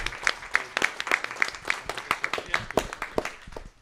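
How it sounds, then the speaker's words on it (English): Applause from a city council meeting audience, a small group clapping steadily at a moderate distance for a few seconds, sparse and slightly uneven. "give him a round of applause"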